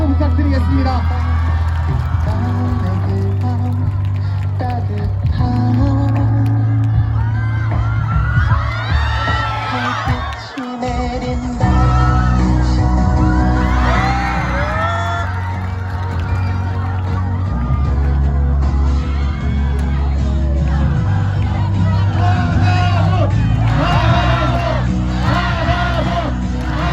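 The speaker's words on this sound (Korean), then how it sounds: "모두 큰 박수 부탁드리겠습니다." A large crowd cheers and applauds loudly for a third-year class 4 class president walking out at a school event, a dense roar that holds for the whole stretch with one brief dip midway and voices mixed in.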